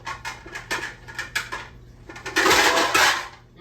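A kitchen bowl is handled among dishes and utensils while preparing an heirloom tomato summer salad, with a string of light clinks and taps followed by louder clattering scrapes, close and clear without talking.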